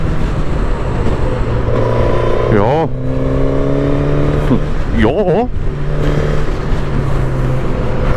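Suzuki GSX-S 1000 motorcycle with Nissin front brakes and twin 310 mm Brembo discs, running during a brake test; a steady engine drone continues throughout while someone speaks a couple of short words over it.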